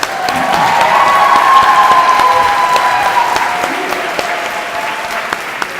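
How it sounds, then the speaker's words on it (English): Sustained applause from a graduation ceremony audience for Media Studies graduates, a dense wash of clapping that swells early, holds steady for several seconds and then slowly tapers, with a few sharper individual claps near the end. "if you have another round of applause for Media Studies graduates"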